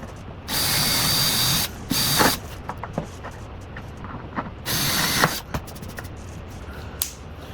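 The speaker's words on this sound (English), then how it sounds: "and I'm also able to mark my 1 inch holes. Get these drilled out." A drill bores 1-inch holes in a wooden bandsaw sliding table jig. Two loud whirring bursts, roughly a second each, are separated by scattered clicks and small handling knocks.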